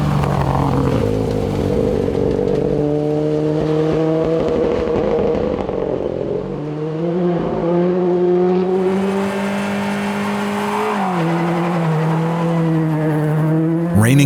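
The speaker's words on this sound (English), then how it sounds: "American Dave Wallingford is piling on the miles in his Fiesta R5" A Ford Fiesta R5 rally car on a stage at the Rocky Mountain Rally, its engine droning steadily and loud, climbing and dropping in pitch through gear changes, with no talk over it.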